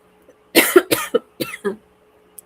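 A run of about six harsh coughs in quick succession, close and fairly loud, with short pauses between the bursts.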